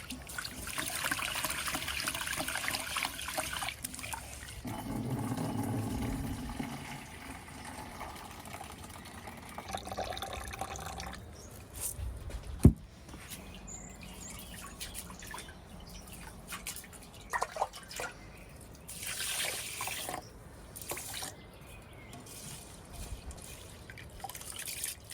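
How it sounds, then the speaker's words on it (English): Rice and corn are washed in water during village cooking in Ukraine, with intermittent swishing, trickling and dripping, a few sharp knocks, and quiet stretches between, heard close with no talking. "Now I'm washing the rice together with some corn."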